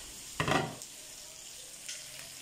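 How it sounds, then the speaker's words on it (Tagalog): Pork chop cooking on an electric grill gives a short, loud burst of sizzling, then settles back to a faint, steady hiss. "malapit na maluto yung ating pork chop in electric grill"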